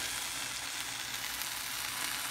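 Cheese and an egg sizzle and crackle in a hot frying pan, a steady bright hiss with small pops, close and continuous without any talking.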